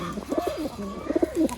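A pair of Haifa pigeons in a loft coo close by: two clear bursts of rolling, throaty coos separated by a short pause, with no talking.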